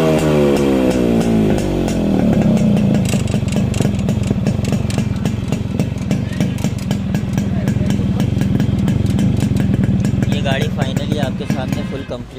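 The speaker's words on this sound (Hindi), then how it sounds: "और ये फाइनली आप गाड़ी का साउंड सुन" A vehicle engine turns over and settles into a steady, loud idle with a rattling, chugging rumble that continues throughout.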